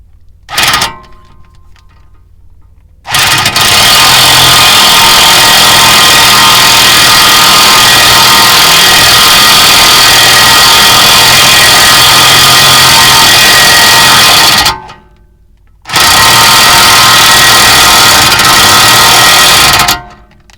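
Power tool tightening a tie rod end on a Chrysler 300 with a 3.5 engine, a loud continuous whirring burst lasting about twelve seconds, then a short pause and a second burst, close by.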